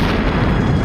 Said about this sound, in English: it's still a barely contained explosion